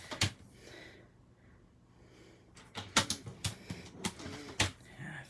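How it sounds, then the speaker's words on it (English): Scoring a cardstock lid piece half an inch in from each edge produces a run of sharp, close scraping strokes and clicks, quick and irregular, with a brief earlier tap and no talking. "we're going to score it at a 1/2 inch on all 4 sides"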